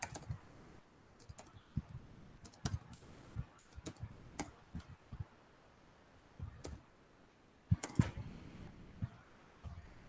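Keys on a computer keyboard being typed in short clustered bursts with pauses between, quiet and close, a scattering of clicks and taps while scores are entered.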